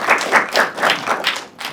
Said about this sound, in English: let's give him a big round of applause because he's amazing